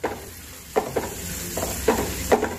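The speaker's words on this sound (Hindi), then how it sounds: "थोड़ा मिला लेंगे" A spoon stirs raw turmeric curry (kachchi haldi ki sabji) in a hot pan, giving a few distinct scraping strokes over a low, steady sizzle with no talking.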